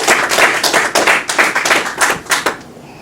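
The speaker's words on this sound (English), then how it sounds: "Give yourself a round of applause." A church congregation claps in short uneven bursts, a close, crisp patter of many hands rising and falling for a few seconds before stopping abruptly.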